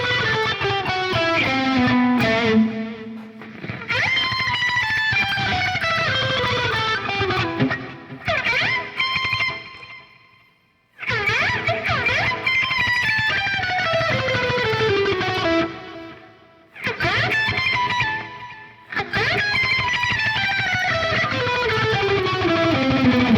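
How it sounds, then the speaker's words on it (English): Electric guitar plays rapid tremolo-picked octaves in descending runs on the high string, repeated in several long phrases separated by brief pauses. "So we're actually going to be doing octaves and tremolo picking right now."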